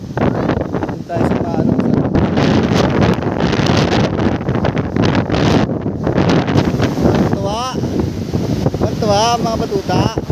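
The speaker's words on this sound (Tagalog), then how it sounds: "Kasi napakalakas na hangin." Strong wind buffets the microphone at a beach on Boracay under red-flag conditions, roaring gusts with surf beneath, loud and continuous while a person talks over it.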